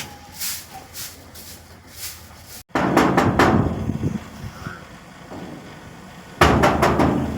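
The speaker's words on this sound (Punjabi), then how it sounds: "ਉਹੀ ਗੇਟ ਭੰਨਣ ਲੱਗ ਜਾਂਦੇ ਨੇ 2 ਮਿੰਟ ਜਰਾਂ ਵੀ ਨਹੀਂ ਕਰ ਸਕਦੇ" Banging on a metal gate: a few faint knocks at first, then after a short pause louder, clattering bursts of blows, with a final heavy burst of rattling hits at the end.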